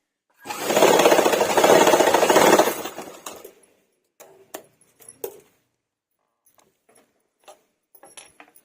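A sewing machine stitches a blouse back-neck design in one loud, rapid burst of about two seconds, followed by a few scattered clicks and taps as the work is handled.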